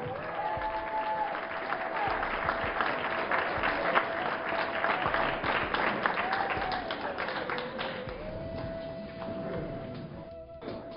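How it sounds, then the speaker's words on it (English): An audience rises in a standing ovation for an honored guest, sustained, crowded clapping and cheering that runs on for several seconds while a voice calls out over it. "Stand up and give this brother a round of applause"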